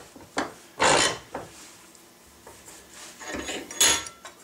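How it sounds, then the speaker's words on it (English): A brass ramrod thimble is worked on a mandrel in a gunsmith's shop, giving several short scraping and rasping strokes at close range. A couple of louder bursts stand out, with quieter scuffs between them. "You can use your mandrel."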